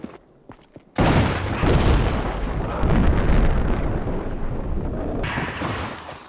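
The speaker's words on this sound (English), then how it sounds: "Taking the most powerful Magnum, fully upgraded, to the most standard enemy's head for the extreme headshot." A fully upgraded Magnum fired for a headshot in Resident Evil, a single huge booming blast after a second of quiet clicks, followed by a long loud rumbling tail that fades slowly.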